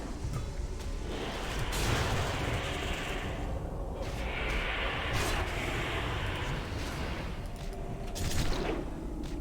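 Bursts of mana leech explosions in World of Warcraft: Burning Crusade Classic, a series of booming, crackling blasts in quick succession, loud and overlapping with rumbling tails between them.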